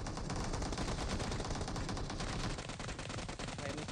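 Rapid gunfire in PUBG Mobile, a dense, continuous barrage of loud shots sustained for several seconds with no pauses.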